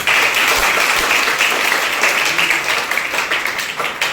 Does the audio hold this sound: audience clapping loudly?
yes